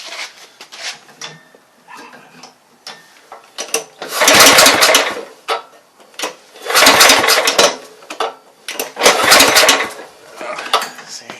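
The 2-cycle engine of a Bobcat 42 inch mower catches in three loud, roaring bursts of a few seconds each, separated by quieter clattering and handling noises.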